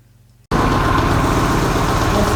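A Ford Scorpio engine with a fuel pump being fixed cuts in abruptly after a quiet moment and settles into a loud, steady idle with a deep rumble, close up and without voices.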